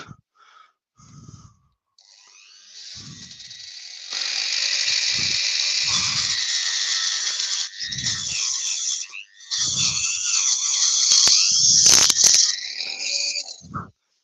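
A worn Dremel rotary tool that seems near failure whines at a high pitch, running in long stretches with brief stops and restarts, loud and close, with scattered low bumps in between.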